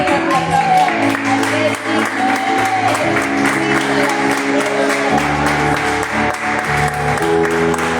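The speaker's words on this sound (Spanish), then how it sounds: "Ahí donde están, en un fuerte aplauso." Applause from a church congregation during a Spanish-language service, broad steady clapping under organ or keyboard chords and voices, sustained and loud throughout.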